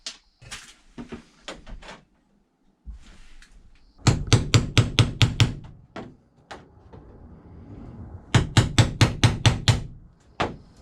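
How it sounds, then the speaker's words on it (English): Two quick runs of sharp metallic taps from a center punch on aluminum, about six strikes each, ring out close by, separated by quieter handling noise and scraping. "I can use my center punch and poke a couple of holes"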